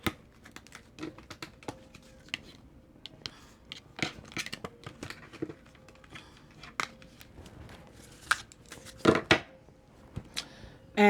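Scissors cut a paper note, making a long run of small, crisp snips and clicks at close range in a quiet room, with a few louder snips near the end.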